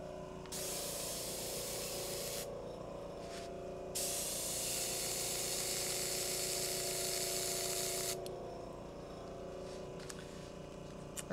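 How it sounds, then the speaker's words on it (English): White paint sprays from an airbrush in long hissing bursts with brief pauses between them, its sputtering audible over a low steady hum from nearby equipment. "I'm gonna try a little bit of white airbrush."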